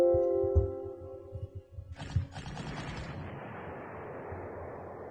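Artillery guns backing up a Panzer in an ambush in the Panzer Corps war game, a few sharp reports followed by a heavy blast around midway that trails off into a long, fading rumble.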